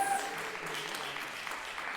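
Brief, dense crowd applause for musicians and dancers at a Montreal swing dance event, a continuous wash of clapping at even volume.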